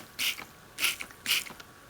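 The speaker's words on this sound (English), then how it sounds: "I am going to spray the seeds if I can get the water out" An old plastic spray bottle filled with water and hydrogen peroxide is pumped by hand, producing three evenly spaced, close squeaky trigger clicks with short hissing spurts.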